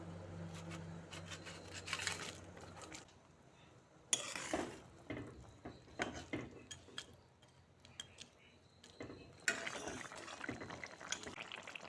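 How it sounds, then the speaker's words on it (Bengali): Fried mourola fish are added to a bubbling village-style oil-and-chilli gravy and stirred, with scattered scraping clinks of a utensil against the pan, soft liquid stirring and sizzling at close range. "এখন দিয়ে দিচ্ছি ভেজে রাখা মাছ"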